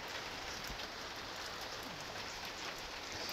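Steady rain falling outdoors on Koh Samui, a dense continuous patter of drops with a few closer taps, filling the scene evenly with no voices.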